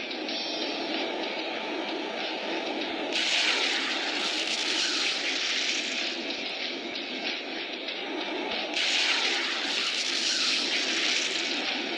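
Aircraft engines in a naval combat video game, a continuous loud droning roar that swells twice into brighter, louder passes.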